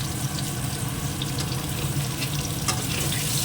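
Potatoes for aloo dum sizzle in a pan, a continuous close-up hiss of frying with occasional sharper crackles.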